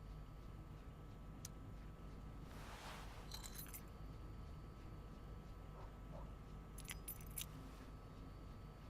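Keys jangle in the video game Life is Strange: Before the Storm, two brief bright metallic clinking bursts spaced a few seconds apart over a quiet room tone.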